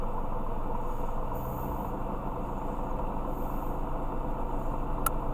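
A Hyundai Eon's air-conditioning compressor runs with the engine, giving a steady, close, low droning hum that holds even throughout, with no one talking.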